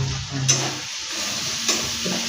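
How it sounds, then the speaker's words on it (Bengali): Spice masala frying and being stirred in a pan for chicken biryani, a close, steady sizzle with a couple of sharp scraping strokes. "মশলাটাকে একটু ভালো করে কষে নিলাম"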